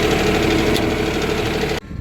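A farm tractor, hitched to an older trailer, idles loud and steady with a rough, even rumble before the sound abruptly cuts away.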